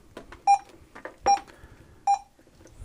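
A multifunction RJ45 network cable tester with a 4-inch touch screen gives three short, sharp electronic beeps, evenly spaced about a second apart. Each beep is close and clear, with quiet handling noise between them and no speech.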